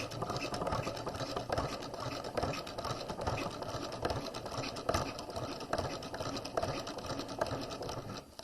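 A domestic sewing machine runs a zigzag stitch over elastic for an elastic waistline, a quiet, steady mechanical whir with rapid rhythmic needle ticking that continues throughout.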